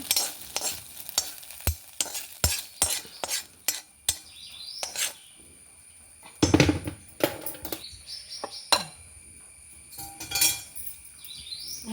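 Okra masala curry is stirred and scooped into a bowl: a series of close spoon scrapes and metallic clinks against the pan and bowl, uneven in rhythm, with a soft sizzle underneath and no speech.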